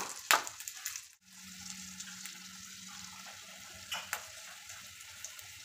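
Tap water runs steadily and fairly softly while green chillies are washed by hand in a kitchen. A clink comes near the start, and light knocks and splashes sit over the flow.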